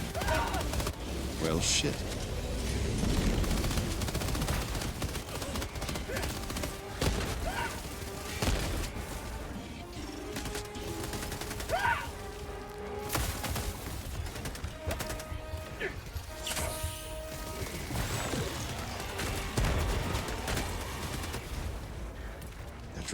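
Rapid gunfire in a video game aimed at drop ships, dense bursts of shots and booms spread throughout with a continuous noisy backdrop, while players talk over the action.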